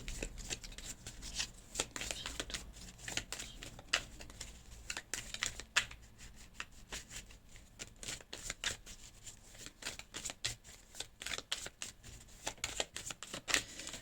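Oracle cards are shuffled and drawn in a soft, close, continuous patter of quick flicks and riffles, faint throughout with occasional sharper snaps.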